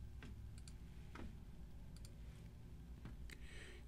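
A few faint, sharp mouse clicks in Screenflow 8 software, spaced irregularly and heard alone over a quiet, steady hiss.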